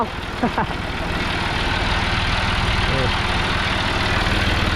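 A John Deere 5075E three-cylinder turbo tractor idles close by, a steady low throbbing rumble that holds level throughout, with a few brief voice sounds near the start.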